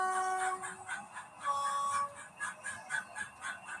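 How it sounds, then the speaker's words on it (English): A model train sound decoder plays a diesel locomotive horn, with steady tonal blasts stopping and starting over a quiet rhythmic engine chug in a reverberant shed. "The first of which is the diesel"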